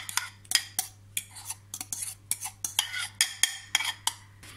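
Bananas being stirred into vegan banana bread batter, a brisk, regular rhythm of utensil scrapes and clinks against a bowl, close and clear, with a low steady hum beneath.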